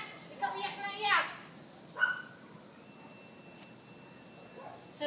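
A puppy barks and yips in a few short, high bursts close by, mixed with people talking in a home setting.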